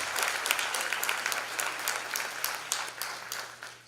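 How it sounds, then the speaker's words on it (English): Audience applause after a dance performance at a live-streamed Indian classical arts event, a crowd clapping briskly with distinct individual claps standing out, steady at first and tapering slightly toward the end over a low steady hum. "So another huge round of applause for Smriti."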